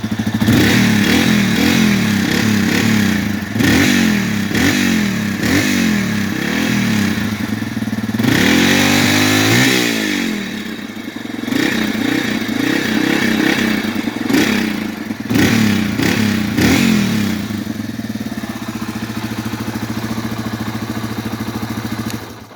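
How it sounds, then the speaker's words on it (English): Yamaha TTR225 four-stroke dirt bike engine revving close by, with a loud rumbling idle rising into repeated throttle blips and a long sweeping rev near the middle, clattering mechanical noise throughout. "I think 4-strokes just sound phenomenal. And for a dirt bike like this, I like 4-strokes."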